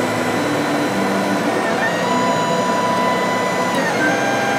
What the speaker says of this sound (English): As you can see, there's the first layer of the Benchy printing.